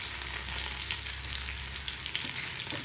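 Taro pieces fry in oil with salt and turmeric, giving a steady, close sizzle and crackle with soft stirring sounds underneath, continuous and without any voices.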